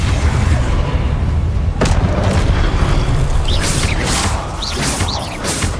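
A fire-blast spell in Hogwarts Legacy goes off as a loud, heavy rumbling boom with a sharp crack near the start, then whooshing, sparkling bursts trailing off; no talking.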